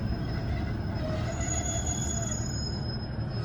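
A passenger train pulls into Redcar East station on Teesside, heard from on board as a steady, loud rumble of wheels on rail with a thin high wheel squeal drawn out over it.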